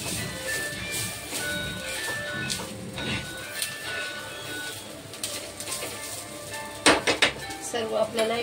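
Onion and other ingredients roasting together in a pan while being stirred, metal utensil scraping and clinking against the pan with sharper clatters near the end, a voice talking over it.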